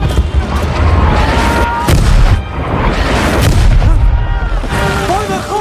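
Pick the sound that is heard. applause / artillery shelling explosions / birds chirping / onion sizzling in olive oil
artillery shelling explosions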